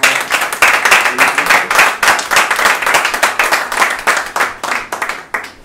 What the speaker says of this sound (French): Donc ça s'applaudit.